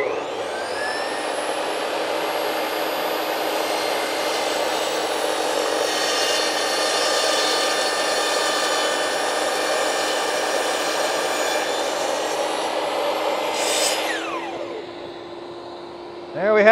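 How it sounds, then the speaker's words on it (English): A power saw makes one long cut through clamped daggerboard pieces, a steady loud whine holding for many seconds before spinning down near the end. "We're just gonna do one cut and cut them all right at once."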